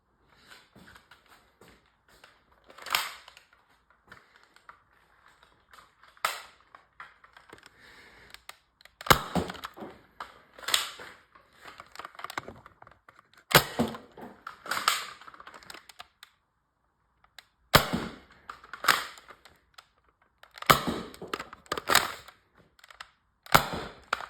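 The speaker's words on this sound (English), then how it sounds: "so that was the firing of this X-Shot revolver." A modded X-Shot Reflex 6 toy revolver fires foam darts, making sharp snapping shots spaced out at first and then coming in quick clusters, each with a short mechanical clack, close and in an otherwise quiet room.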